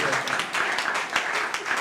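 A crowd at a church gathering in DR Congo claps steadily throughout, a dense patter of applause with voices mixed underneath.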